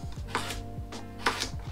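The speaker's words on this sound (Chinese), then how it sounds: "我们先把它切小块，等一下直接用调理机打会比较快。" A knife chops a carrot into small pieces on a board, about five crisp, evenly spaced cuts, close and fairly quiet, with no talking.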